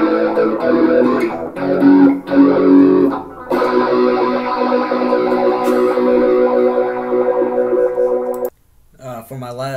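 Electric guitar played through a Zoom G2.1u multi-effects pedal on a MOD/SFX setting: a loud, sustained, heavily processed warbling melody with a distorted, effected tone that cuts out near the end.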